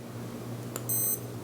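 A titanium digital watch's minute repeater chimes in a short burst of high, thin electronic beeps over a quiet background hum, faint and close.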